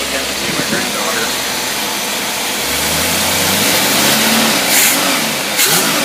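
A jet boat engine fitted with a Quadrajet carburetor revs up and down in a steady low roar, close and loud, with the pitch climbing around the middle before easing off.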